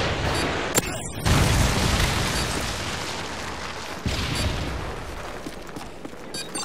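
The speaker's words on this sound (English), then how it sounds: "Friendly Predator missile inbound." A Predator missile strike in Call of Duty: Modern Warfare 3 lands with a loud booming blast, followed later by a second heavy impact and scattered crackling game noise throughout.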